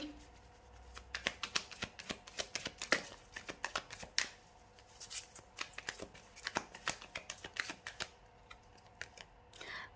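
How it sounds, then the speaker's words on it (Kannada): Playing cards are shuffled and drawn up close at a table, a steady run of crisp riffling and sharp snapping flicks that goes on for the whole stretch, with no voices heard. "ನನಗೆ ಇನ್ನೊಂದು ಕಾರ್ಡ್ ತೊಗೊಳ್ಬೇಕು ಅಂತ ಅನಿಸ್ತಾ ಇದೆ"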